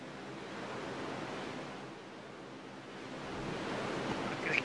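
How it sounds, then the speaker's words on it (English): Ocean waves crashing in Final Fantasy X HD Remaster, a faint, steady wash of surf noise with gentle swells, heavily compressed and without any talk. "these waves crashing, there's some strong compression"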